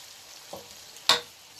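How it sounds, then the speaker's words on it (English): Shrimp frying in a pan for garden egg sauce gives a faint, steady sizzle, broken by a couple of brief stirring scrapes, the second one sharper and louder. "it's just frying stuff."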